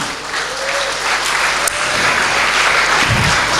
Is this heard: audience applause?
yes